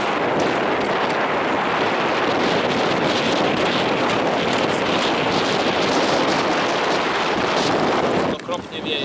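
Strong wind buffets the microphone on a small boat running an electric outboard trolling motor, a loud, continuous roaring rush that barely lets up, with a brief dip near the end.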